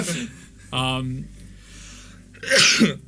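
A voice acts out a sneeze: a short strained vocal buildup, a pause, then a sharp breathy burst, close and fairly loud.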